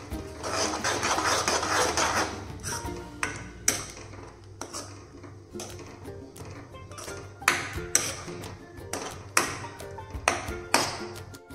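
A spoon stirs tomato puree into chhole masala in a pan, giving a run of sharp metallic taps and scrapes against the pan over a soft low sizzle, the clinks spaced irregularly and close.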